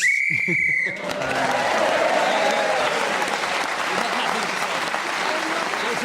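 A sharp, high whistle blast at the start of a radio panel game show, then a crowd breaks into loud, sustained applause and cheering.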